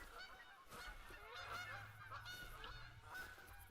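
Geese honk repeatedly in the hunting game theHunter Call of the Wild, a flock's overlapping nasal calls at a moderate distance, continuous and fairly quiet, with no voices over them.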